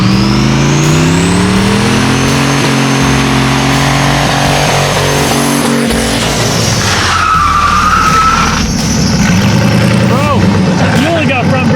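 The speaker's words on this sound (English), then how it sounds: "Let's go do some burnouts." Turbocharged LS-powered shop truck doing a burnout, the engine revving hard and loud with continuous tire screech and skidding throughout, close by.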